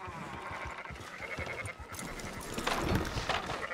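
Sheep bleat in the Red Dead Redemption 2 video game, several rough calls mixed with hoof clip-clop and farm bustle, fairly close and continuous, with faint voices in the background.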